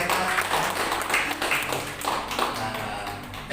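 Church congregation clapping together during a worship service, a fairly close, steady patter of many hands with no one speaking over it.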